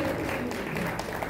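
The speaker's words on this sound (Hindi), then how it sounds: "एक बार जोरदार तालियां फिर से।" An audience applauds at an award ceremony, a short burst of soft, distant clapping.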